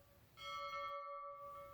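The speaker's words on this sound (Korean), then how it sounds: "검사를 시작하는 종소리가 멀리 온 나라의 구석구석까지 울려 퍼졌습니다" A single bell rings out with a clear tone, struck once and left to hum and slowly fade, fairly faint, as if heard from a distance, with no talking.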